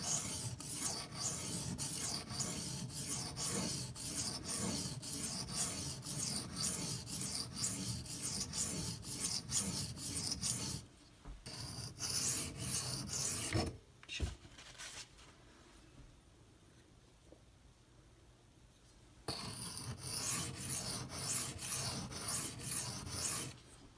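A Benchmade 943 knife edge is ground on a Haidu silicon carbide sharpening stone to remove damage, producing continuous close rasping strokes with a brief pause in the middle before the scraping resumes.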